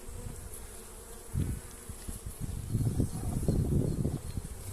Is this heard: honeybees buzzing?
yes